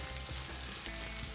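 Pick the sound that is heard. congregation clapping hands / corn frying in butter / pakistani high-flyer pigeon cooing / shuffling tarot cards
corn frying in butter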